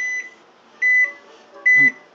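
A microwave oven gives three evenly spaced electronic beeps, each about a quarter second long, loud and close in an otherwise quiet kitchen.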